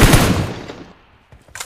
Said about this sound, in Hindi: वो पीछे कोई स्नाइपर चला रहा